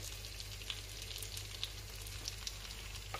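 Onions and ginger sautéing in a hot pan for Filipino dinugoan, a steady close sizzle with soft scraping stir strokes now and then.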